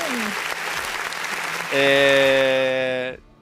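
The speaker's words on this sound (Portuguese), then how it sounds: "Palmas para ela." Applause for co-host Ale Souza on a Percy Jackson episode review show: a brief patter of clapping gives way to a loud, steady sustained tone, likely a produced sound effect, that cuts off abruptly near the end.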